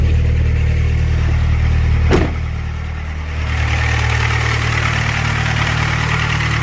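A Mitsubishi Eclipse with a turbocharged 420a engine, forged internals and JE pistons idles loudly and steadily close by, with one sharp click and a brief dip in the idle before it settles back.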